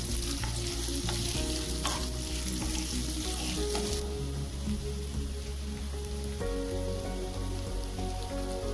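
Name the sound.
onions frying in a pan for kanda poha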